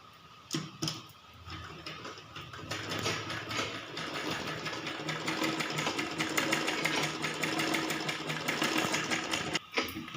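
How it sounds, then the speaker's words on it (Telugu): Sewing machine stitching fabric for baby shorts, a fast rhythmic mechanical rattle running continuously and close, with a brief start and a pause near the end. "క్లాత్ను ఈ విధంగా స్టిచ్ చేసుకోవాలి"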